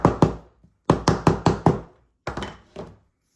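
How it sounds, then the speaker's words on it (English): A mallet taps down a leather liner on a headstall crown strap in short bursts of sharp, close knocks: two, then four, then three blows with brief pauses between groups. "I'll grab my mallet and then flip it over so I'm only pounding on the liner side"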